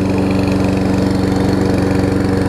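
A Lawn Boy push mower engine, warming up and running slightly rich on choke, drones steadily with a rapid, even pulsing putter, loud and close, with no talk.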